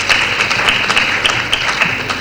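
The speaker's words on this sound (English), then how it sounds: "So please applaud yourselves again." Conference audience at a global midwifery conference in Nigeria applauds steadily, a loud, dense wash of clapping with a few sharper claps standing out.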